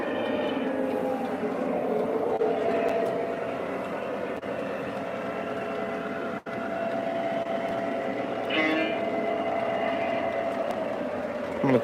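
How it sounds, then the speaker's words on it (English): A Lionel or MTH model ore train runs along the track with a continuous mechanical hum and rumble, steady and close. Faint clicks and a slight swell come near the end. "I'm gonna chase the ore train"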